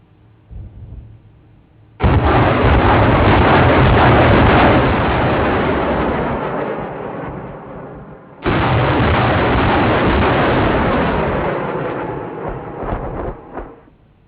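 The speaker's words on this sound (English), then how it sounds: "you'll be soon witnessing the lethality of the multi-barrel rocket launchers firing from your right side" Multi-barrel rocket launchers with 30 barrels each firing on a military range, two long, loud roaring salvos of rapid rocket launches, each a sustained rushing blast lasting several seconds, no voices.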